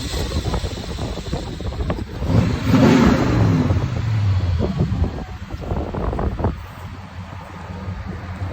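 A 1994 Chevy 1500 pickup with a cammed LT1 V8, true dual exhaust, long-tube headers and Flowmaster mufflers revs up loudly outdoors, swelling to a peak and settling back to a rumbling idle amid wind noise.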